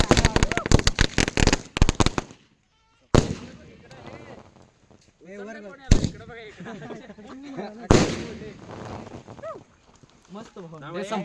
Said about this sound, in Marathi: हे फटाके कुठं आहे?